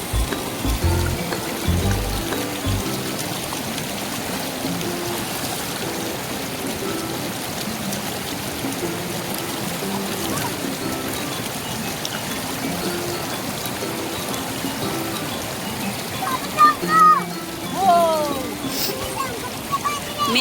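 Steady rushing of a stream flowing outdoors in hot weather, a continuous broadband wash running throughout, with brief splashy bursts early and near the end and faint voices underneath.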